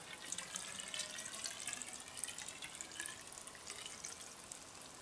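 Water pours and trickles into a heavy-duty moss pole tube being filled, a steady splashing flow with faint dripping, heard alone and fairly quietly.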